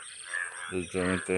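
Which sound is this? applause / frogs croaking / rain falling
frogs croaking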